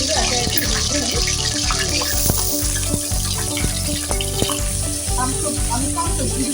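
Green chillies slit down the middle crackle and sizzle in a hot mix of oil and ghee, a dense, steady frying hiss with sharp pops and clatter from the pan close by, no talking over it.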